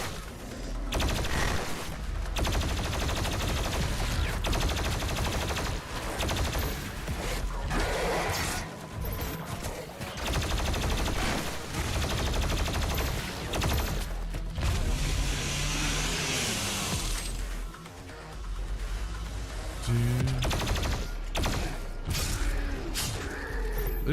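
Plasma rifle fire in the demon-shooter Doom Eternal crackles in rapid streams of shots amid a dense barrage of combat sounds, explosions and mechanical clatter, loud and almost continuous, with occasional brief lulls.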